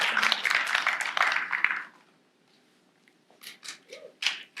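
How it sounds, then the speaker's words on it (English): An audience at a poetry night applauds, a dense burst of clapping for about two seconds that fades into silence, followed by faint scattered sounds. "let's give a big round of applause"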